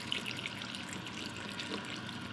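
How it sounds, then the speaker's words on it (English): Tap water pours into a pot of garden borscht ingredients, a quiet, steady splashing stream with faint dripping and no talk over it. "cover this with water right to the top"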